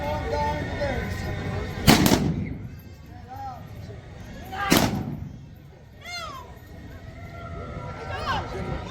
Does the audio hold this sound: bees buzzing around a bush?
no